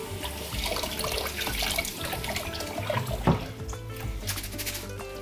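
Food is rinsed under a running kitchen tap while dolma is prepared, a steady rushing stream of water with splashing shifts and a brief louder clatter midway, moderately quiet with no talking.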